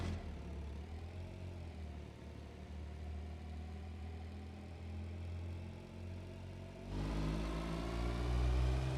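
A forklift engine in the BeamNG driving game idles with a low, steady hum, then revs up sharply near the end into a louder, deeper roar.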